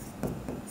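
A pen or pencil writing by hand on paper, two brief close scratchy strokes in under a second, soft and alone.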